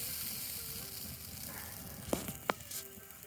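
Chimichurri chicken sizzling over a campfire, a steady soft crackle and hiss with a few sharp pops and clicks near the end.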